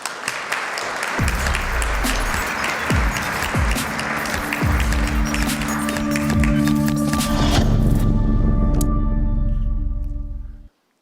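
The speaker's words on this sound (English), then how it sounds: "Please join me in giving Brendan a huge round of applause." Audience applause in a conference hall greets a speaker at an event on data and creativity, a broad wash of clapping with occasional louder claps and sharp taps before cutting off abruptly.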